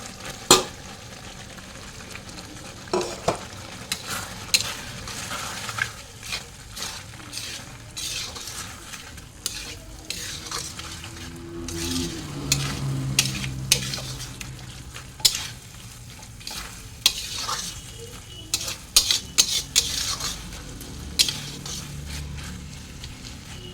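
Fried carrots are stirred into sizzling masala in a pan, with continuous frying hiss, scraping strokes and frequent metal spoon clinks against the pot, close up and without speech.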